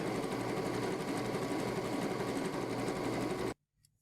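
A sewing machine stitches through quilt fabric in a fast, even, close mechanical whir for about three and a half seconds, then stops abruptly into near silence.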